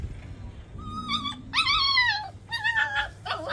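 A puppy that has fallen into a canal whimpers and howls in several rising, wavering cries, close and fairly loud over a low steady hum.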